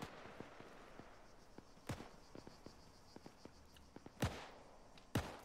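Distant gunfire in Arma 3, scattered faint cracks and pops spread irregularly over an open outdoor ambience, with a few louder sharp reports toward the end.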